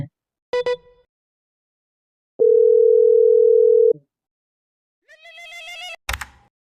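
A steady electronic telephone tone sounds for about a second and a half between brief clicks and a short burst of a voice.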